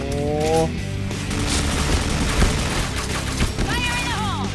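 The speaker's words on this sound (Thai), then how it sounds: "กระสุนมันเยอะไม่เป็นไรยิงเถอะ" Rapid HK416 assault rifle fire in the Point Blank online shooter, dense bursts of game gunfire with mechanical clatter running continuously, with other synthetic game effects mixed in.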